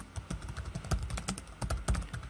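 Quick, steady clatter of keys on a computer keyboard as a code comment is typed, the individual clicks close and distinct in an uneven rhythm with no talking.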